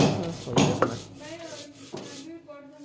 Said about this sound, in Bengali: এই যে নারকেল বেটে নিচ্ছে